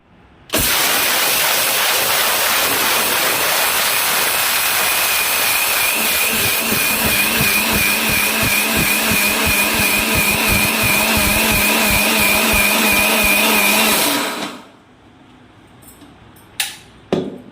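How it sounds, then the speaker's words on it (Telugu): A mixer grinder whirs loudly as it grinds cooled parboiled rice into coarse flour. The motor whine is steady, then grows a rapid pulsing rattle, runs about fourteen seconds and stops, followed by near silence and a couple of sharp clicks. "చల్లారనిచ్చి మిక్సీ పట్టుకుంటే బాగా రవ్వలాగా, లైట్ రవ్వలాగా వస్తుంది"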